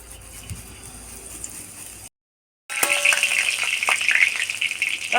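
Grated garlic hits hot oil in a wok and breaks into a loud, steady sizzle, right after a quiet stretch and a brief silent gap.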